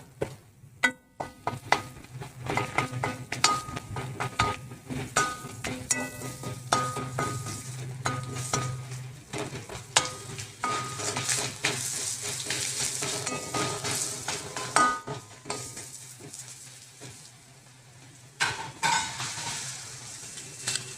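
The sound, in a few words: chopped garlic frying and being stirred in a pan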